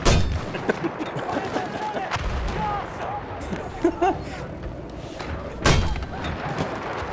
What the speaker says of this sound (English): oh, that grenade really hit me. What? They're just chucking nades.